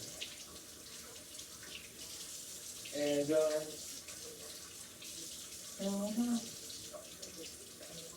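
A kitchen tap runs steadily at moderate volume while carrot juice is being prepared. A voice speaks briefly over the water twice.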